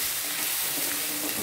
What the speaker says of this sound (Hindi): मसालों के साथ भी 2 मिनट हम फ्राई करेंगे